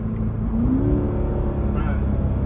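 Chevrolet Corvette Grand Sport engine blipping and revving on a downshift, a rising then falling engine note heard from inside the car, with voices talking over it.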